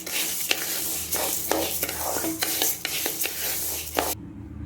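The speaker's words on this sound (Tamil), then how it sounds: "உளுந்து நல்லா கோல்டன் ப்ரௌன் ஆகிடுச்சு." Urad dal, skinned black gram, being dry-roasted golden brown in a pan for idli dosa podi, with a soft continuous sizzle broken by repeated scraping clinks of a spoon stirring against the metal, close up and with no talk.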